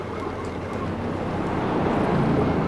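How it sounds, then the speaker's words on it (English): A helicopter passes over the pit area in the iRacing simulation of the 24 Hours of Nürburgring, heard as a steady, broad rumbling drone that slowly swells louder toward the end, with no talk over it. "This chopper go over the top of the pit."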